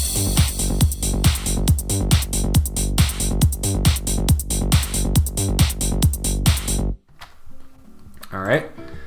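Electronic drum loop with closed hi-hats mixing 16th and 8th notes over punchy kicks, a steady repeating groove for about seven seconds before stopping, followed by quiet room sound.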